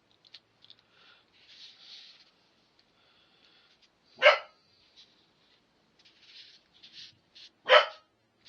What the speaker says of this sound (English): My dog's heard something again, so he's off again.